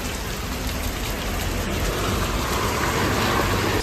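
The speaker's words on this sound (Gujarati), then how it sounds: "જો ગાઈસ કેટલો વરસાદ છે" Heavy monsoon rain pours in Gujarat, a dense, unbroken hiss of drops hitting surfaces close by, steady and loud throughout with no voices.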